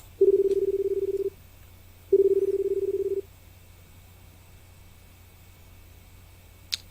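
A payphone in a phone-booth escape video game sounds two long buzzing telephone tones, each about a second, separated by a pause. A quiet hum follows and a faint click comes at the end, with no talking.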